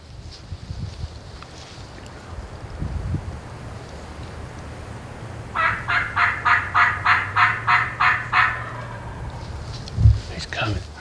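Wild turkey gobbler during a spring hunt in Tennessee, a single rapid gobble of about ten quick pulses in the middle, fairly clear at some distance over low background rumble.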